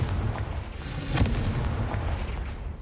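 A Confringo fire spell explodes in the game Hogwarts Legacy: a dense, rumbling burst with a sharp crack near the middle, set over continuous low booming and crackle.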